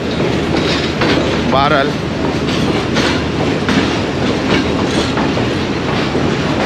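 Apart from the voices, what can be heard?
Pakistan Railways Green Line train with GU40 locomotive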